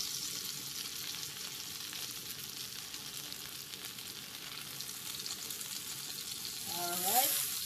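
A pork chop, just flipped, fries in a pan with a steady, close sizzle and crackle that swells into a louder burst of spattering near the end; no one speaks.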